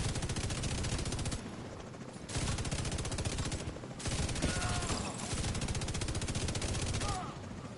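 Sustained automatic gunfire from The Division 2 rattles in dense, rapid bursts with brief lulls between volleys, loud and continuous over the game's ambience.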